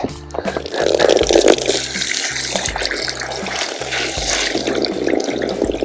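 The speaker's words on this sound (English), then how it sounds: "I want to rinse this out real well here." Coins being rinsed in a strainer under running water, a steady, close splash and rush of water with metallic rattling of coins over the whole stretch.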